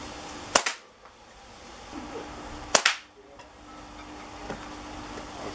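Two sharp airgun shots strike a lithium ion battery outdoors, each a loud crack with a short ringing tail, spaced about two seconds apart against a quiet background with faint rustling between.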